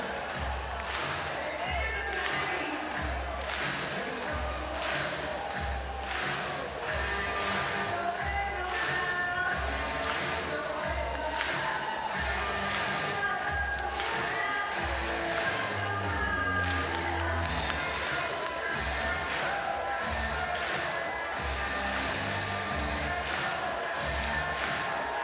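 A college baseball crowd in Athens, Georgia cheers steadily through a tied ninth inning, a dense roar with rhythmic claps, thuds and taps layered over the noise, loud and continuous throughout.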